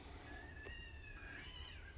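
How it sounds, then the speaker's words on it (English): Cats fighting outdoors, one long drawn-out yowling caterwaul rising and wavering, faint and distant under steady background noise. "that's a pretty bad sounding cat fight"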